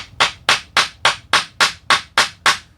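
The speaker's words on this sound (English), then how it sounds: "steady the draw knife with my foot, and do that peening like so." Hammer peening the handle tang of a drawknife steadied underfoot against wood, eight sharp metallic strikes at an even half-second rhythm, close and clear with no talk.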